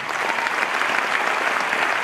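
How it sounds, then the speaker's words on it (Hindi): At a celebration event an audience gives dense, continuous applause in honour of the women present, a steady wash of many clapping hands up close. "इसीलिए जोरदार देवियों की, सभी देवियों के लिए जोरदार ताली"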